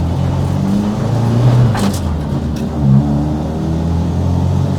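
A rally car engine revs and accelerates with a steady low rumble, loud and close, rising in pitch through the gears.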